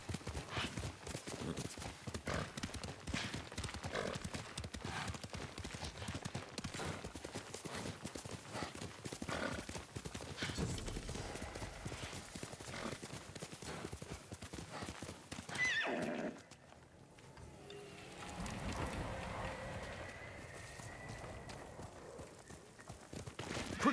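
A horse in the video game Ghost of Tsushima gallops with rapid, continuous hoofbeats and neighs loudly over them. The galloping drops away near the end, leaving quieter game ambience.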